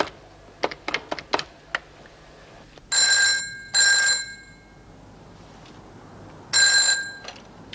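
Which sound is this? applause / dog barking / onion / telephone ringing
telephone ringing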